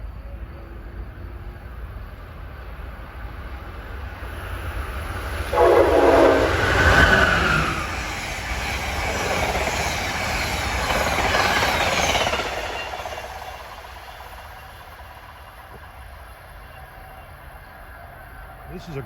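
Amtrak train 134, running eastbound from Washington to New York, roars past in the Philadelphia area, building from a distant rumble to a loud passing surge with rhythmic clatter before fading away.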